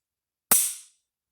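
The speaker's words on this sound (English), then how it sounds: "When I pull this back, listen for that click." A single sharp trigger click from a PSA Dagger 9mm pistol, heard close and alone, with a crisp snap that decays quickly.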